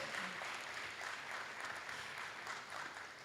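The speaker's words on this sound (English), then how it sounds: "please put a round of applause for yourself." Steady applause from a conference audience, a dense wash of clapping that holds at an even level throughout.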